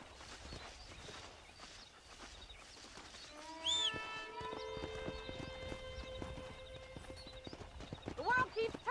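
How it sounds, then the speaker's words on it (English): Horse hooves clip-clop steadily with a horse whinnying, over a busy game soundscape of ambient noise and occasional bird calls in Red Dead Redemption. "Let's see if we can't wrangle some horses."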